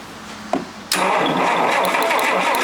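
A Rolls-Royce Silver Cloud engine, suspected of a bad camshaft and failing to proceed, cranks with a sudden loud onset after a brief click, then churns steadily and rapidly, close and continuous to the end.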